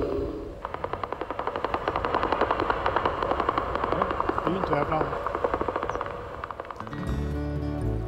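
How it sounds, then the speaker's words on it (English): Bat calls made audible by a bat detector in a forest near a castle, heard as a fast, steady train of crackling clicks and buzzing pulses that rattle on continuously at moderate loudness. "a machine that can transform the bat screams so we can hear them."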